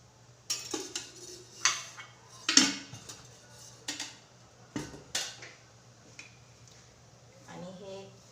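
A pan is set on a gas stove and oil added by spoon: a handful of sharp metallic clanks and scrapes of utensil on cookware, spaced irregularly, with a faint low hum beneath.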